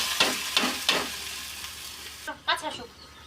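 Lentils, potato and broken rice drop into hot oil with a few short bursts of sizzling, followed by a louder crackle as more goes in; the frying sounds close and fairly quiet.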